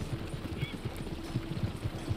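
Horse hooves clip-clopping in the video game Red Dead Online, a steady run of soft, evenly spaced thuds at moderate distance, carried over low background noise with no talk.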